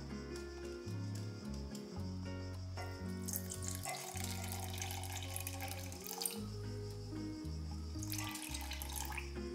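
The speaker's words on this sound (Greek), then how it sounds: "βάζω στο ίδιο βαζάκι 100 γραμμάρια νερό" Water runs from a kitchen tap into a small jar holding old sourdough starter, a steady continuous splashing stream heard up close with a low hum underneath.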